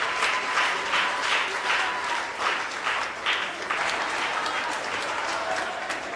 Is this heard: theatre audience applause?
yes